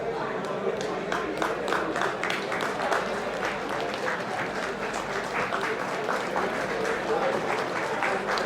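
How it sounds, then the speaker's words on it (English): Audience applause at the Shishir 2023 opening ceremony after the lighting of the ceremonial lamp: a dense, continuous crowd clapping that stays steady and loud throughout. "Can we please have a bigger round of applause?"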